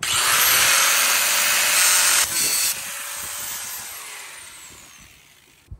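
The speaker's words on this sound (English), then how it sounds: "we're gonna get our grinder and we're gonna cut that down and cut it flat" An angle grinder cuts metal flat outdoors in the snow, giving a loud, steady high whine that dips briefly, resumes and then winds down as the disc spins to a stop.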